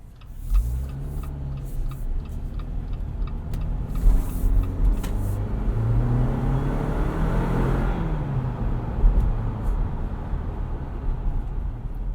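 A 2019 Jeep Wrangler Unlimited Sahara 4x4 with its turbo engine accelerates on a night drive, a steady, loud engine drone rising in pitch as it pulls, with road rumble and faint ticking underneath.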